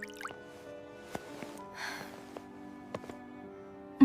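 Water drips from a leaking roof. Scattered single drips land at irregular intervals over a faint, steady background hum and splash nearby.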